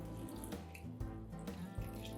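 Water poured into a cooking pot of drained lentils for Turkish lentil soup, a steady close splashing stream running continuously without pause.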